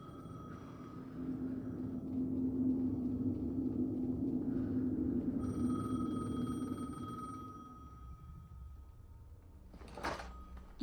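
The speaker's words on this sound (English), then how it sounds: "The phone again." A telephone rings inside the video game Alan Wake 2, a steady tone over a low rumbling ambience, with a brief clattering burst near the end.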